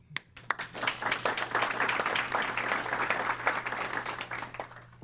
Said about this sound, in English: for that you can applaud